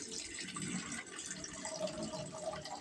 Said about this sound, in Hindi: उसके बाद से हम इसमें डालेंगे पानी।